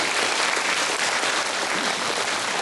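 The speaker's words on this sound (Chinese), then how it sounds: "请借各位的掌声来感谢我的贵人汪珍华小姐" Steady, broadband applause from a seated audience at a talk, continuous and even for the whole stretch with no voices on top.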